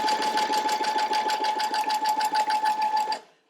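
A sewing machine with its tension turned all the way up stitches fabric in a fast, even run of rhythmic mechanical pulses with a steady motor whine, close and alone, stopping abruptly after about three seconds.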